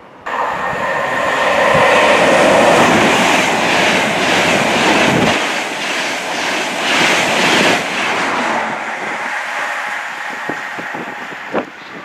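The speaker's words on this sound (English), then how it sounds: "the London North Eastern Railway Azumas or Class 91s passing through here" Train rushing through South Elmsall station, either an LNER Azuma or a Class 91, a loud broad roar with rhythmic wheel clatter that fades after about eight seconds, leaving faint clicks and a sharp tap near the end.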